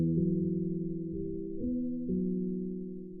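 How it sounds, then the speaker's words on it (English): Dark ambient piano resampled to a lower sample rate in FL Studio, its low, muffled sustained chords shifting a few times over a steady, moody drone, with no voices. "And it made the piano sound like this."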